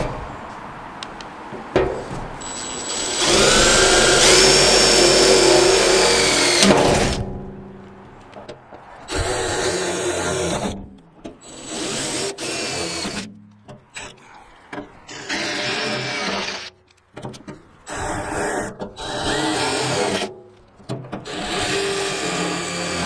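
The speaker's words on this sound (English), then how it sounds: "I'm going to use a smaller bit and just pilot drill the center of each one of those" A small bit drills pilot holes through a template into the metal gas tank of a 1972 Datsun 240Z. The drill whines in repeated loud bursts with brief pauses between holes, and scraping and handling noises fill the gaps.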